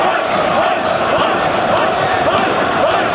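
An arena crowd at a professional wrestling match keeps up a loud, steady roar of cheering and approval, a dense wash of voices with no break from start to finish.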